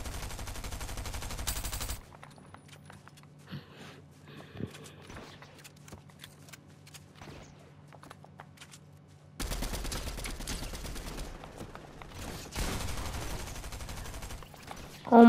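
Gunfire from a shooter video game, with bursts of loud rapid shots at the start and again in the second half, separated by a quieter stretch of scattered single shots and game ambience.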